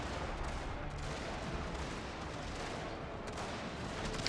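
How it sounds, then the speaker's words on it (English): Strategy-game artillery barrage of continuous rumbling gunfire and booming shots, dense and steady throughout, with no talking. "Can I order my artillery? Fire on the boat troops."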